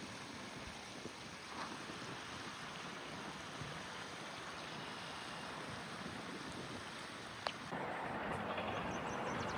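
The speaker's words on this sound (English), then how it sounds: "look at these cool waterfalls" Constant faint rushing of small waterfalls on the South Park rapids along the Montour Trail, an even wash of falling water heard from a short distance, steady and uninterrupted with no talk.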